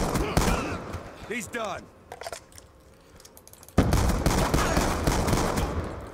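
Gunfire in Call of Duty Black Ops 2 combat training, a rapid automatic burst early on followed by a long loud stretch of sustained shooting, with a brief spoken line in between.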